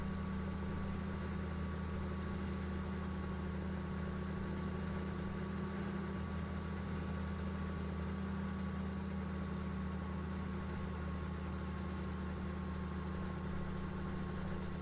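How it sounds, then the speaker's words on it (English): A tractor engine in Farming Simulator 17 drones steadily under a heavy load, a low constant hum with a faint higher whine, continuous and unchanging throughout. "Pull, tractor, pull."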